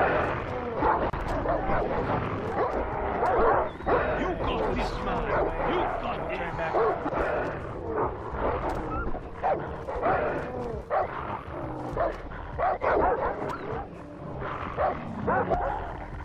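In the video game Far Cry 3, two dogs bark and yip repeatedly through a busy, continuous mix of game noise and voices. The bursts are fairly close and keep up throughout.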